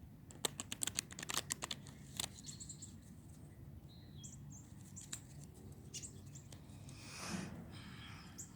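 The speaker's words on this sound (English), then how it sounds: "one more shuffle and we'll go ahead and draw 4 cards." A quick flurry of light clicking taps as cards are shuffled, then quieter scattered taps over a steady background hum, with faint birdsong.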